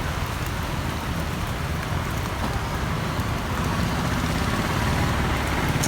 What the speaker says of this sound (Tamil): மழை வந்து பயங்கர ஸ்பீடாக மழை பெஞ்சிக்கிட்டே தான் இருக்குது